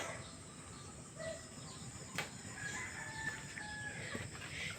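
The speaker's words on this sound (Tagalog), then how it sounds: "Yan yung mga ibang manok natin" Chickens cluck and call intermittently at a former pig farm against a steady outdoor background of insects and faint ambience, with a brief sharp noise midway.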